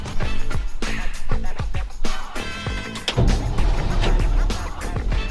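An old truck that has sat unused for years: the engine cranks and catches, then runs rough and loud with revving surges, close by, while people talk and exclaim over it.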